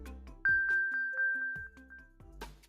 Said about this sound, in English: If you've lost your device and think it's nearby, tap Play Sound, and you'll hear this chime.